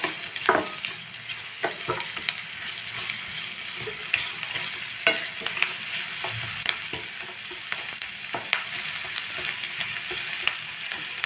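Onions sauté in a pan for brinjal kara kuzhambu with a continuous, close sizzle. A spoon scrapes and taps against the pan now and then while the onions are stirred, with no talking.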